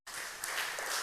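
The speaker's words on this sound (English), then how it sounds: "Give him a round of applause." A round of applause for a speaker at a church gathering, many hands clapping together in a full, even burst that starts abruptly and holds for about a second.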